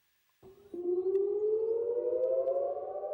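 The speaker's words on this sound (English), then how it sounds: "Sirens pierced the silence of the dawn sky above Israel's port city of Haifa" An air raid siren wailing at dawn over the Israeli port city of Haifa, starting abruptly and rising steadily in pitch as it swells to a loud, sustained tone with no talk.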